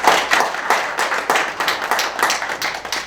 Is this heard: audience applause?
yes